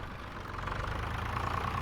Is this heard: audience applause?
no